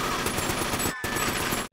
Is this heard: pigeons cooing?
no